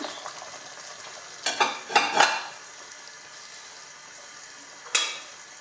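Courgettes dropped into a simmering couscous sauce for Algerian couscous royal give a soft, steady sizzle, with a few louder splashes and stirring clatters from the pot, no talking.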